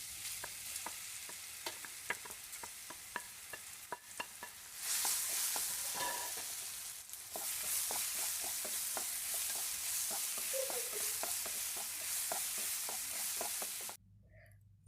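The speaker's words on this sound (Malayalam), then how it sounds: "നെയ്യൊന്ന് നന്നായിട്ട് ചൂടായി വന്നാൽ അതിലേക്ക് കട്ട് ചെയ്ത് വെച്ചിട്ടുള്ള നേന്ത്രപ്പഴം ചേർത്ത് കൊടുത്തിട്ട് നന്നായിട്ടൊന്ന്" Cut plantain pieces sauté in hot ghee in a non-stick pan, a steady soft sizzle broken by frequent clicks and scrapes of stirring, continuing for some time before cutting off abruptly.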